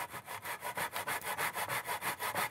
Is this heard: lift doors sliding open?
no